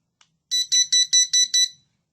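A smoke detector's alarm sounding after its test button is pressed, giving six loud, shrill, evenly spaced beeps in quick succession and then falling silent.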